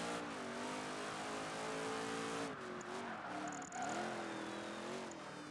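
A racing car engine in Project Gotham Racing 3 roars at high revs down a fast stretch, a steady loud whine rising and dipping with gear changes, close and alone.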